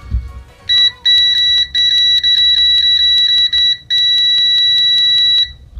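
A VENLAB VM-600M multimeter's continuity beeper sounds loud and piercing, in a string of short chirps followed by longer sustained tones as the probes touch and hold.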